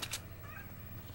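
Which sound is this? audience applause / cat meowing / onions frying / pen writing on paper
cat meowing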